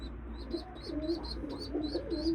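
Pigeons coo repeatedly in a loft, low throaty calls rolling in a steady rhythm with a constant hum beneath and higher chirps scattered over the top.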